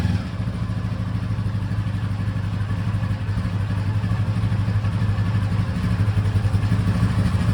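Honda V65 Sabre VF1100S V4 motorcycle engine running on choke just after a cold start on a chilly morning, a loud steady high idle with a constant rumbling drone throughout.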